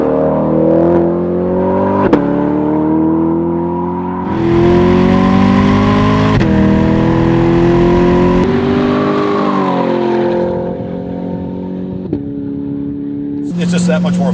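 A Hennessey-upgraded exhaust on a C8 Corvette revs loud and close, the deep harmonic drone rising and falling through several long pulls with a throaty burble between them.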